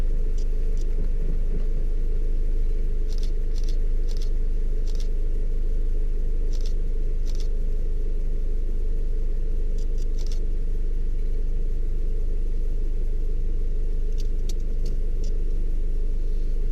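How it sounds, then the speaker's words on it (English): A car on a road in Alaska gives a loud, steady engine and tyre rumble up close throughout, with faint jingling clicks scattered over it. "I hear a car coming."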